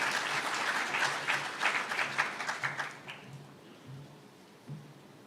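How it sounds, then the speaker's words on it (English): Audience applause at the Engineering in Kenya annual convention in Mombasa County: a dense, loud burst of clapping that thins out after about three seconds, while a voice begins speaking underneath. "let's give him a warm round of applause"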